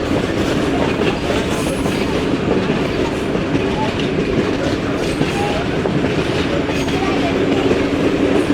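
Passenger train departing a city on the Rawalpindi to Havelian line, GHB coaches rumbling and clattering over the rails, heard as a loud, continuous, close roar from inside a carriage.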